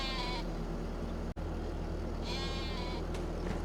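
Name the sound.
sheep bleating in Farming Simulator 25 video game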